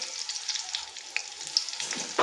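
A Scotch bonnet pepper fries in a pan while being stirred, a steady close sizzle broken by small scraping clicks of the utensil against the pan.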